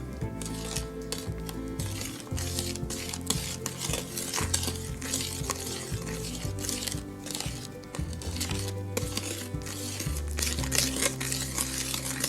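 Egg, sugar and vanilla batter for a tiramisu Yule log being mixed in a bowl, with continuous clinking and scraping of utensil against the bowl in an uneven rhythm, close and moderately loud.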